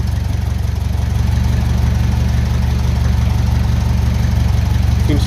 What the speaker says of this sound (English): engine is heating up nicely